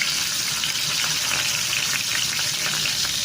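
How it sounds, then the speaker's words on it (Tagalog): Steady, dense sizzling of chicken frying in hot oil, continuous and close, with no talking. "Magprito muna tayo ng manok."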